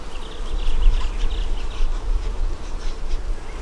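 Honeybees swarm densely around an overflowing double-deep hive, a close, continuous buzzing drone that swells and fades slightly.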